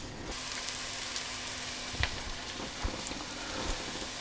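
Shallots sizzle steadily in a pan as they soften and caramelize, a soft even crackle with a couple of faint taps from a utensil, close and quiet.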